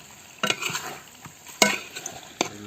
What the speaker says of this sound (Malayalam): ഇളക്കി കൊടുത്തിട്ട് നമുക്ക് ഒന്നുകൂടെ മൂടി വയ്ക്കാം.